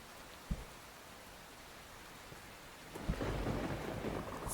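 Thunderstorm with rain in the video game Voron: Raven's Story: steady rainfall hiss, a sharp low thunder crack early on, then a heavier rumbling roll of thunder swelling toward the end, no voices.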